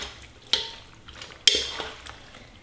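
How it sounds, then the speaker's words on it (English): Rigatoni pasta being stirred with olive oil in a pan, a couple of sharp clinks of utensil against the pan over soft scraping and faint sizzle, close and fairly quiet. "Get a good stir."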